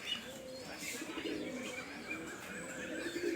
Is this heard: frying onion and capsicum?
no